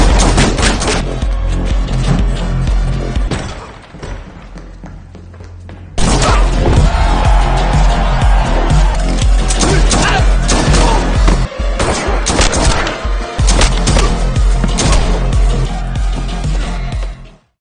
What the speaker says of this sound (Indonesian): John di sini langsung mengeluarkan senjatanya dan membantai semua anak buah dari Gianna.